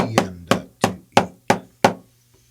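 Snare-style drum strokes played as a double stroke roll exercise with the accent on the second note: six crisp, evenly spaced hits with ringing decay, heard up close and alone.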